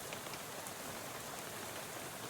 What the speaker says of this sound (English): How about this rain, huh?